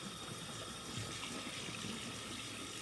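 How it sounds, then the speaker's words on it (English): A bathroom tap runs steadily while a makeup eraser cloth is rinsed under it, a continuous faint hiss of flowing water heard close by with no talking. "makeup eraser when I run it underwater"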